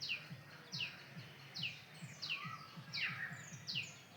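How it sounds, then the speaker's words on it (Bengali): A koel calls in spring, giving a series of rising, whistled notes repeated about every half second, faint and somewhat distant over a soft background hum. "কোকিলের ডাক"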